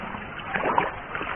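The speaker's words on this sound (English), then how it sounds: "But the river presents no obstacles to the Asiatic elephant." Asiatic elephants wading and splashing across the Manas river, a steady broad wash of moving water with soft sloshes and one brief splatter, continuous and moderately close.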